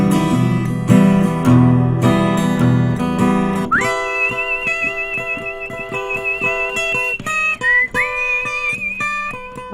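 A man whistles a Hindi song melody on a radio music show. The clear, sustained whistled notes glide and hold over an instrumental backing that starts fuller and thins out.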